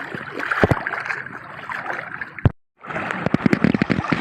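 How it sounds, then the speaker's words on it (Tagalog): Strong current of floodwater rushes across flooded rice fields after Typhoon Enteng and monsoon rains, a close gurgling wash punctuated by sharp knocks and splashes, cutting out briefly midway before resuming just as busy. "Lakas ng agos siya."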